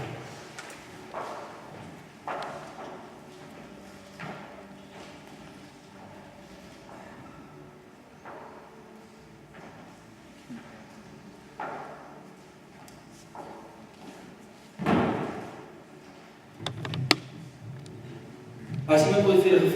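Someone fetches and moves a chair in a church during a Sunday service: soft scattered knocks lead up to louder thumps and scraping bumps near the end, over a faint room murmur.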